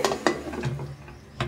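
A pressure cooker lid is fitted and locked shut, giving a few close metallic clicks and a scraping ratchet-like turn over a second or so, with no talking.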